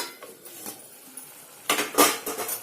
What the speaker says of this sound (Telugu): ఇప్పుడు దీన్ని ఉడకనిద్దామండి మూత పెట్టి చూద్దామండి ఒకసారి